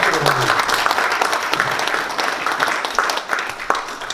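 A lecture audience gives a loud, sustained round of applause welcoming a Seoul National University Hospital cardiology professor, many hands clapping densely and steadily throughout, with faint voices underneath.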